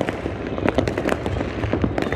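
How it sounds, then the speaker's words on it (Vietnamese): Dense New Year's Eve fireworks bursting nonstop on the Lunar New Year 2024 eve, a loud crackling barrage of overlapping pops and bangs with no clear gaps. "những cái màn pháo hoa được bắn lên rất là nhiều các bạn ạ"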